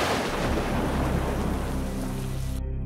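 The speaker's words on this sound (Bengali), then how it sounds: "হঠাৎই প্রকৃতি কাঁপিয়ে বজ্রপাত হলো কাছে কোথাও।" A stylized cartoon thunderstorm effect: a deep, roaring thunder rumble rolls over steady heavy rain, loud and close, then cuts off abruptly at the end, with no voices.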